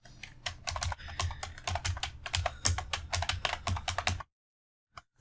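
Rapid, uneven keystrokes clatter on a computer keyboard during a Bootstrap 4 web development session, a dense burst of close clicks that stops abruptly into silence, followed by one or two isolated taps.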